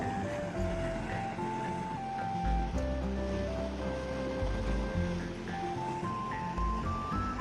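High-pressure water rushing near a JSW power plant on a mountain road in Himachal, heard as a steady, loud broadband roar that fills the whole stretch, with faint tonal hums layered over it and no talk.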